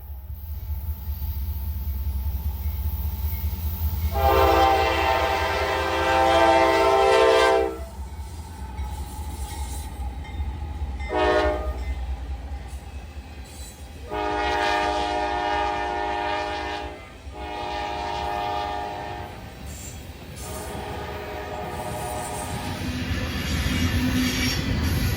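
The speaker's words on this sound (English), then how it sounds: "One thing I loved watching was the locomotives bounce as they cross the diamonds." Norfolk Southern locomotives in Fostoria, Ohio cross rail diamonds, their horn sounding several long, loud blasts over a steady low rumble of rolling train cars.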